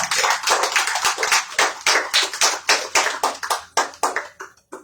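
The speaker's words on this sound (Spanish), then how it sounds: "Dale un aplauso al Señor." Church congregation clapping in a steady, fairly rhythmic series of loud claps, one beat roughly every quarter second, slowing and dying away at the end.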